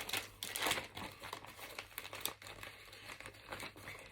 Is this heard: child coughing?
no